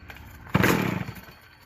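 A vintage engine catches with a short, close burst of revving, then quickly dies away toward a low idle, lasting under two seconds.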